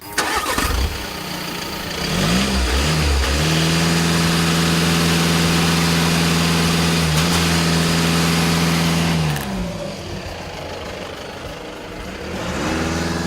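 A 2015 VW Golf TDI 2-liter diesel engine revs up, limited to about 2,500 RPM, and holds a steady high drone for several seconds, then drops back toward idle; loud and close, no talk.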